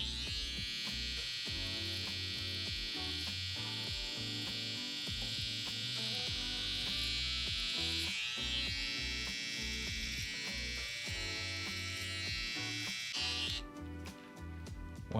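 Electric hair clippers buzz steadily and close up while sharpening design lines in a haircut, a bright continuous whine with small fluctuations as the blades move along the hairline.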